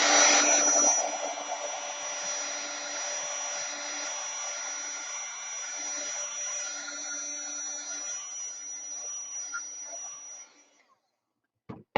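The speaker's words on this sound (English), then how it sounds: "So I'm going to use my heat gun." A heat gun blows hot air to dry damp acrylic paint on a journal page, a steady close whooshing roar with a faint whine, running continuously for about eleven seconds before cutting off, with no talk.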